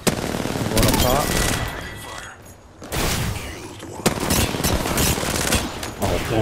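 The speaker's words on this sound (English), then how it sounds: "Yeah, I was shooting at you too." Video game gunfire rattles in long automatic bursts with scattered single shots during a team shooter match, loud and close, pausing briefly before resuming; voices talk faintly underneath.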